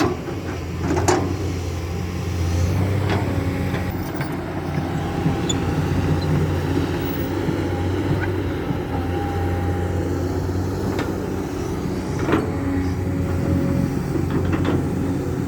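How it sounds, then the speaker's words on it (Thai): A tractor arriving with its engine running outdoors among coconut trees, a steady low rumbling drone with occasional knocks and clatters throughout. "มาแล้ว รถไถมาแล้ว"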